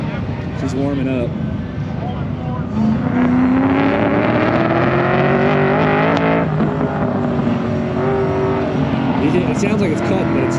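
A 1000 hp supercharged LS-swapped Buick Grand National warms up with a loud, close engine note that rises and falls through revs, while people talk over it.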